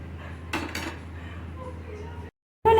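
Colored rice is moved onto a plate with a couple of sharp utensil clinks against the dish, followed by a low kitchen hum, a short silence, and a loud clatter at the very end.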